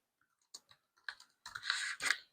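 Scattered keystrokes on a computer keyboard, a few isolated clicks that give way to a quicker, denser burst of typing, close and fairly quiet.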